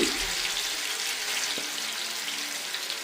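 Fish pieces fry in hot oil in a pan, giving a loud, continuous, close hiss like rushing water, with a faint clunk midway and no talking.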